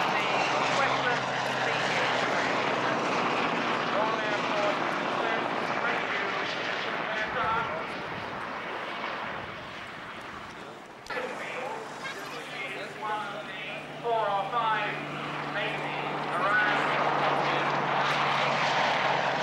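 A jet aircraft with a Rolls-Royce Adour engine, the same as in the Jaguar, roars at an air show, a loud sustained engine drone that dips briefly midway and returns, heard under continuous commentary over a public address system.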